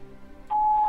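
A single steady electronic voicemail beep sounds at the tone, clear and sustained for under half a second after a brief quiet hum.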